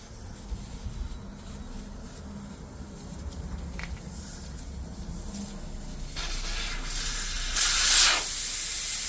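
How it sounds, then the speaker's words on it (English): Air hisses out of a tire valve as the valve core is unscrewed: a faint, steady rush that swells into a loud, bright burst near the end, with no talking. "you unscrew the valve and the air comes out"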